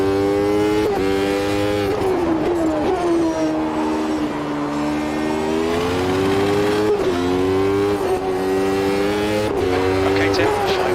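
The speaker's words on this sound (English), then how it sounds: "That's a new fastest lap for Hill" 1993 Formula One race cars in the racing game Automobilista 2 howl at high revs, the pitch rising through gears and dropping on downshifts, loud and continuous while a commentator speaks over the engine noise.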